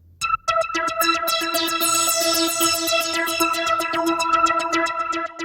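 A Poison synth preset in FL Studio plays a bright, bell-like plucked melody with steady repeated notes and a shimmering upper layer, clean and upfront, with no voices.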